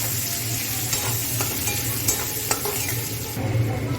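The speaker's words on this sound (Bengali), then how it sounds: "এবার খানিকটা কুচানো পেঁয়াজ ছিল, ওটাও দিয়ে দিলাম। নাড়াচাড়া দিতে হবে।" Chopped onion and whole garam masala spices frying in a pan give a dense, close sizzle, with intermittent scrapes and taps of a spoon stirring them.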